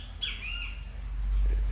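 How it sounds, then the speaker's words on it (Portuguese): A macaw gives a single harsh squawk at moderate distance, a brief raspy call standing out over quiet outdoor background noise with a low rumble. "As araras estão lá, no mesmo cantinho."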